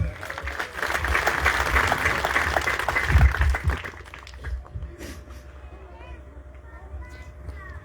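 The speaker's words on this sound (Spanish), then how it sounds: "dale palmas a Cristo" A church congregation in Ayacucho claps hands for Christ during a sermon, a dense wash of applause for about four seconds that then dies down to a faint background as a preacher's voice continues.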